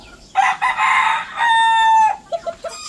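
A Rhode Island rooster crows loudly and close, a long, strained call, followed by a few short clucks from the chickens around it, with no one speaking.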